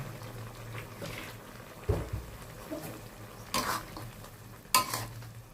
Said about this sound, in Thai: คั่วต่อไปอีกนะคะ